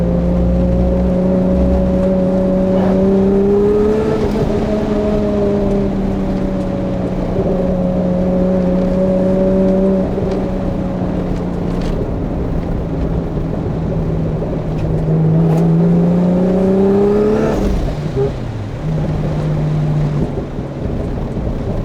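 A high-horsepower Toyota Supra weighing about 1600 kilos pulls hard along a mountain road, its engine note droning steadily and rising and falling with the revs, with wind rushing past the microphone throughout.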